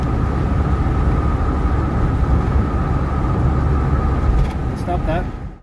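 A VW T25/T3 camper van with a swapped-in TDI diesel engine driving along in fifth gear: a loud, steady engine and road drone with broad rumble that fades at the very end, with a voice talking briefly near the close.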